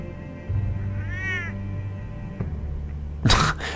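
Cat meowing in the Batman: The Telltale Series game: one clear, drawn-out meow near the middle, over a low humming background, followed by a sharp louder burst near the end.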